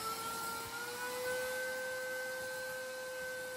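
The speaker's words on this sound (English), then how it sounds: "Then using the wet-dry vacuum, we can once again extract the solution and contaminants from the carpet." A wet-dry vacuum draws cleaning solution and dirt out of carpet during spot and stain removal, giving a steady, loud whirring suction with a sustained high whine, running unbroken and alone.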